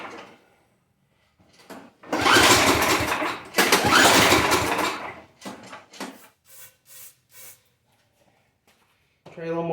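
A curbside-find snow blower engine roars in two loud bursts as it starts, then sputters and coughs in short uneven pulses before catching again at the end, with someone talking nearby.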